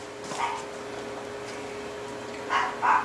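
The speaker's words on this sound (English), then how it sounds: "Damn dogs." Dogs barking indoors in a home kitchen, a couple of short yips early on and a louder pair of barks near the end, moderately close, with quiet room tone in between.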